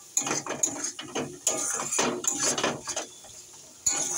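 Spices and chilli powder are stirred in a pan, with a close series of irregular scraping and clinking strokes and short gaps between them, at a moderate level, with no talk.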